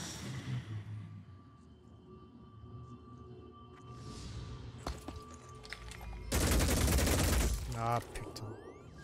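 Shotgun fire in the video game Phoenix Point, a loud dense burst of blasts with mechanical clatter standing out briefly over a quieter game soundscape and faint speech.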